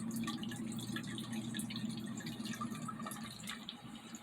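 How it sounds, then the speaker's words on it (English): Water dripping steadily from an evaporator coil drain, a run of small close drips and trickles over a constant mechanical hum from the air-handling unit. "Same amount of water is coming out."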